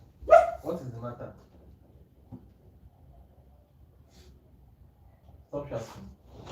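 A nearby dog gives a few quick barks, then a long quiet stretch with faint background noise, and then more barking or yelping toward the end.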